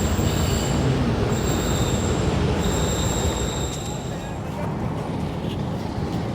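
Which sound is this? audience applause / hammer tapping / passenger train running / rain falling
passenger train running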